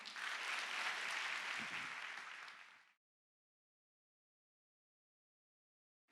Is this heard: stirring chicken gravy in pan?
no